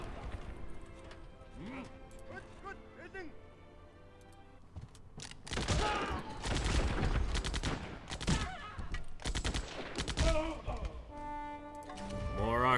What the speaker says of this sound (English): Artillery shelling.